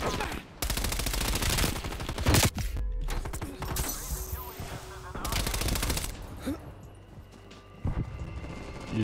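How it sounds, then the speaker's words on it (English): Bursts of rapid automatic gunfire from a strafe run in the video game Call of Duty: Cold War, loud and close, in several volleys separated by short gaps with scattered mechanical clatter. "That strafe run is still going in."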